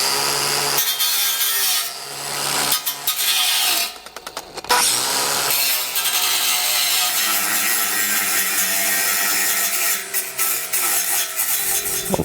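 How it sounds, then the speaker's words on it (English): An angle grinder cuts into a thick steel base plate for a 2019 Jeep Wrangler, a loud continuous abrasive whine that briefly dips midway while the disc bites, then resumes at full strength. "I'm just going to use a grinder like this, but you could probably get away with a Dremel tool or a Sawzall even to get this material removed."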